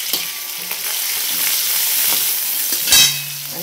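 Cumin and crushed garlic sizzle steadily in hot oil in a pan, a loud, close frying hiss with faint stirring clicks throughout.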